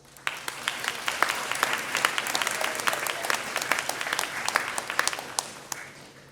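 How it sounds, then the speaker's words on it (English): A school audience at a spring beginning band concert gives a hearty round of applause, with many hands clapping steadily, individual sharp claps standing out near the front, and the clapping sustained throughout at moderate loudness. "a hearty round of applause"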